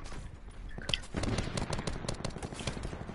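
Rapid gunfire in a multiplayer shooter, repeated cracking shots in quick bursts, some near and loud, others fainter, with a brief voiced reaction mixed in.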